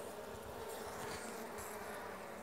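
Honeybees in a weak hive of four brood frames, being kept by the Demaree swarm-prevention method, hum in a steady, close, unbroken buzz with no voices.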